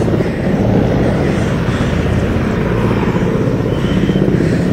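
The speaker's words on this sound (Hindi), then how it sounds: "और एक और जो हेलीकॉप्टर है वो यहाँ पे आपको लैंड होता हुआ दिखाई देगा" A helicopter lands on a helipad at a parade ground for a state oath ceremony, its loud, steady broadband engine and rotor roar continuous throughout with no talk.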